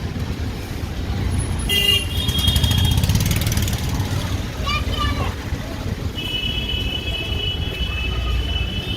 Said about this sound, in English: You do eventually get used to all the car horns honking.